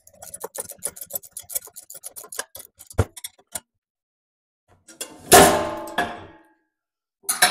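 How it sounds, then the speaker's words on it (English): Metal wrench turning and clanking on a bolt of an Agri Fab 42-inch lawn sweeper during assembly, giving a rapid run of close ticking, ratcheting clicks followed by a few louder clangs and a rasping scrape, with no talk. "I think I can use the box end of the wrench without getting it trapped"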